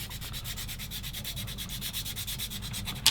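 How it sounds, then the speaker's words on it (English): Sandpaper scrubs the bottom of a chair part from a Tamiya 1/35 Jeep Willys model kit in quick, even back-and-forth strokes, close and steady with a small tap at the end. "So I've got to do a bit of sanding on that"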